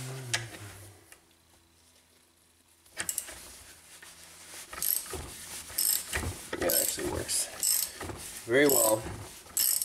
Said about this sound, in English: get a socket on here, see if we can spin it out